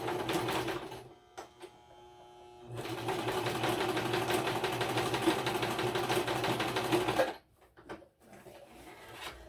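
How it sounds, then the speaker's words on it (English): Sewing machine running a straight stitch along the spine of a handmade paper folio, a close, steady mechanical whirring hum in two runs separated by short pauses and clicks. "so I just sewed right on the spine."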